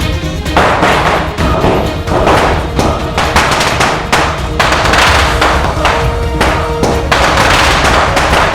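Firecrackers bursting in the middle of a street, a dense, loud string of sharp cracks and thumps going off in rapid succession throughout.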